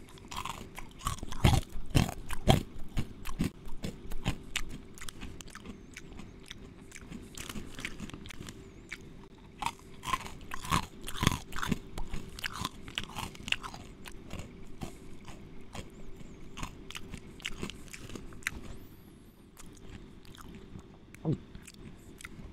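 Crunchy snack from an American mystery box being chewed close up, with loud irregular bites and crunches repeating over about twenty seconds, no talking.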